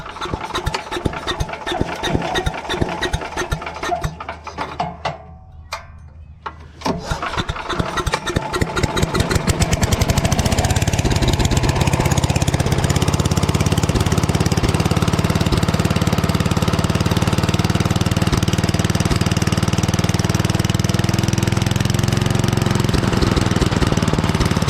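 A Craftsman 8.5 hp wood chipper's small engine sputters through a few pulls, catches around ten seconds in and settles into a loud, steady choked idle that drones close by for the rest.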